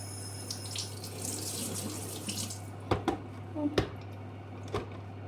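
A mixer part is rinsed under a running kitchen tap, a steady hiss of water splashing into the sink, followed by a few sharp clunks as the part is handled, with a low mains hum underneath.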